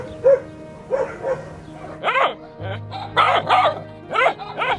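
Street dogs in Romania bark repeatedly at close range, a quick run of loud, sharp barks, some overlapping, with short gaps between them.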